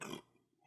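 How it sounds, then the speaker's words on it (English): A single short, low burp, close and quiet, fading out quickly into near silence. "Burp."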